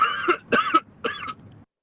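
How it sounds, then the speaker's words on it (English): Three raspy coughs in quick succession from a video playing on another screen, fairly close and clear, with no other sound around them. "coughing like a tuberculosis addict back here on another screen"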